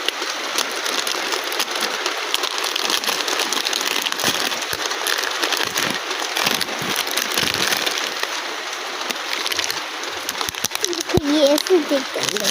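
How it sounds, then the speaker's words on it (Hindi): Rain falls steadily outdoors as a broad, continuous hiss of drops, with a brief crinkling or splashing near the end. "देखो बारिश हो रही है यहाँ पे"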